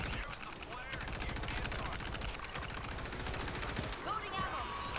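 Sustained machine gun fire in the zombie shooter World War Z, set in New York, with dense rapid bursts running nearly without pause and other gunfire layered in a loud, chaotic mix.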